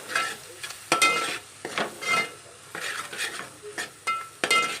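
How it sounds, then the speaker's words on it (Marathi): Spices sautéing in oil for chickpea usal, a close sizzle under repeated stirring strokes, each scrape of the utensil in the pan rising and falling in a loose rhythm. "आता यामध्ये हे जे आपण मसाले घेतले ते सर्व घालून घ्यायचे आणि छान 1 मिनिटभर ते मसाले तेलामध्ये छान परतू द्यायचे"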